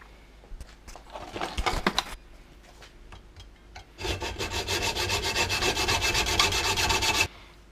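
An oil-pressure rear shock absorber is cut open over a drip tray: a few short scraping strokes come first, then a loud, steady rasping cut runs for about three seconds before stopping abruptly.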